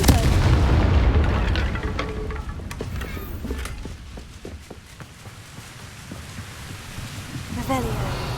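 In the game Hogwarts Legacy, the Confringo explosive spell goes off in heavy, booming blasts that are loud at first and fade into scattered thuds and crackles, with another burst near the end.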